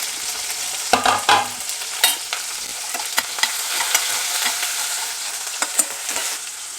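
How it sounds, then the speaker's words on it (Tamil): Mustard seeds, onion, green chilli and garlic sizzle and crackle in hot oil during tempering, a steady frying hiss broken by sharp pops and stirring scrapes, close and without talk. "வெங்காயம் பச்சை மிளகா பூண்டு கடுகு போட்டு தாளிச்சாச்சு"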